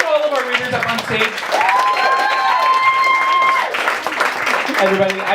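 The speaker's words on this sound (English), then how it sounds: "One more round of applause." Audience applause at a live stage show, a dense, steady wash of clapping and cheering that fills the whole stretch while a voice talks over it.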